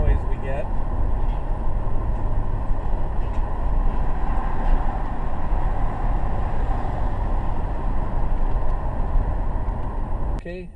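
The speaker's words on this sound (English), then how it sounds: "See how much wind noise we get." Wind roars steadily through a moving car with both the driver and passenger side windows down, a constant loud rushing that fills the cabin until a brief bump at the end.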